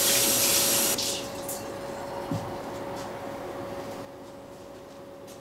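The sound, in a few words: tap water wetting unwaxed twine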